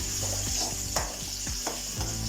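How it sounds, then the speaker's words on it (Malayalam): Onions frying in a pan with ginger, garlic and curry leaves, a steady close sizzle broken by a few scraping stirs. "നമുക്ക് ഉള്ളി മൂപ്പിച്ചെടുക്കാം"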